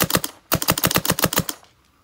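An SP Shocker CVO mechanical paintball marker fires a rapid string of sharp, close shots, first a short burst, a brief pause, then about a dozen evenly spaced cracks before trailing off.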